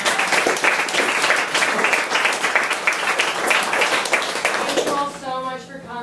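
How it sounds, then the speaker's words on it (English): An audience at a community talk gives a round of applause, dense clapping and cheers for several seconds that fade as a voice begins speaking near the end. "give yourselves a round of applause"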